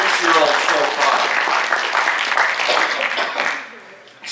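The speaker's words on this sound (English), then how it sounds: "Give your friends a big round of applause" A crowd at a high school post-prom event applauds, dense clapping and cheering voices rising loud, then tapering off toward the end.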